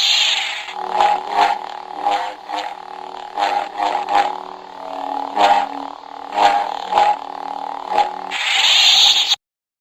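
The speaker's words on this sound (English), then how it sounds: "Help Rey and Finn by deflecting the stormtroopers blasts with your lightsaber." A Star Wars lightsaber from a 2015 play-a-sound storybook hums steadily while it deflects stormtrooper blaster bolts, which hit as a rapid run of sharp zaps, ending in a loud buzzing swell.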